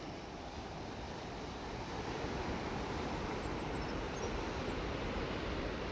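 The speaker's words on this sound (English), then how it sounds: "you might not be able to hear it over the sound of the waves" Ocean waves breaking on a rocky shore at Estero Bluffs State Park at low tide, a steady, broad roar of surf with wind, fairly faint and continuous, with a few distant birds chirping faintly.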